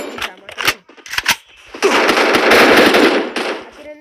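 Video game gunfire rattles in short bursts, then swells into a sustained, loud volley of rapid shots lasting a couple of seconds, with quieter pops trailing off afterward.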